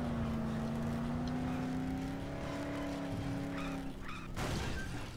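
Car engine drone with a tire-skid squeal from a vehicle driven in the video game Dead Island, a steady loud motor hum running throughout with a brief screech and clatter near the end.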